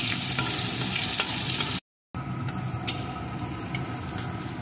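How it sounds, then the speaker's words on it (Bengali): Chopped onion frying in hot oil with dried red chillies and whole spices for a magur fish curry, a steady close sizzle broken by a brief silent gap, with occasional stirring clicks. "এখন পেঁয়াজ কুচিটাকেও একটু ভেজে নেব।"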